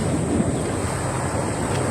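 Sea waves and wind at a beach, a steady broadband rush of surf with wind buffeting the microphone, unbroken for the whole short stretch and fairly loud.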